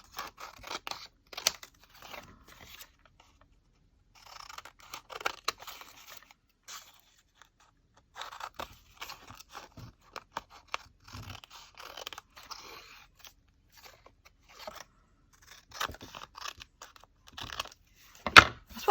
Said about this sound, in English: Now, let's trim these edges and see what I have here.